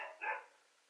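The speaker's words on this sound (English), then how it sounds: "if you hear a dog barking," Dogs bark from downstairs, two short muffled barks in quick succession, faint and distant through the floor.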